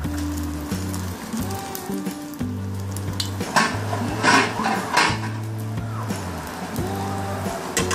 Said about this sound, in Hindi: इसके अंदर हम इसको शैलो फ्राई करेंगे।